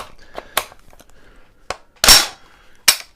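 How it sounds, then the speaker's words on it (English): The charging handle of a Brownells BRN-10A retro AR-10 rifle is pulled back with effort. Sharp metallic clacks ring out one at a time, close by, with a longer scraping rasp in the middle and quiet handling noise between them. "the charging handle on this is extremely hard to pull back"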